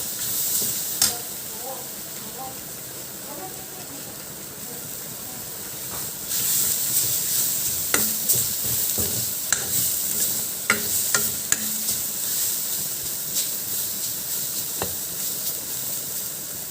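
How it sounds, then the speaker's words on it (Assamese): Dhekia fern greens cook in a pan while a spoon stirs them, a continuous steamy sizzle broken by repeated scraping clacks that grow busier and louder after the lid comes off. "মই এনেদৰে ঢাকনখন উলিয়াই লৰাই দিছোঁ"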